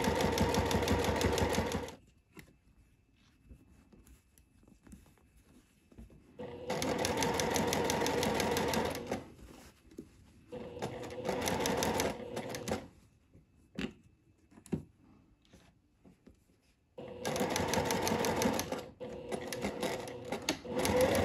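A sewing machine stitches the lining and main fabric of a floral sundress together in three long, loud bursts of rapid whirring. Quiet pauses with faint handling noises fall between the bursts.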